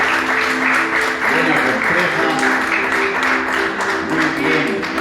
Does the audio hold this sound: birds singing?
no